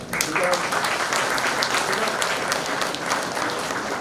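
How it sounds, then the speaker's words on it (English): A crowd at a foundation day celebration gives a steady round of applause for the volunteers, a dense continuous patter of many hands clapping close by for the full few seconds. "I request you to give them a big round of applause here"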